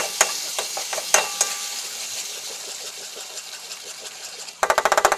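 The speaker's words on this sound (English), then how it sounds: "and mix it well" A sauce of ketchup or tomato sauce with black pepper is stirred for Korean fried chicken, scattered utensil clinks over a soft hiss, ending in a quick burst of rapid rhythmic taps.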